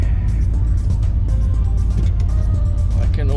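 A 1969 Corvette with an L68 engine runs in a garage, giving a steady, deep, rumbling idle throughout while people talk over it.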